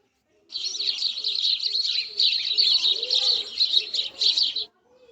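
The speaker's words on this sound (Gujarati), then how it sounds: "ચકલી" Dense, rapid sparrow chirping fills about four seconds, a continuous high twittering that starts and stops abruptly, with faint cooing underneath.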